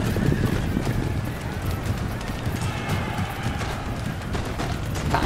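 Cavalry horses gallop in a dense, continuous thunder of hooves in an Empire: Total War battle between British and American armies, charging infantry on a flank, with whinnies buried in a steady battle roar.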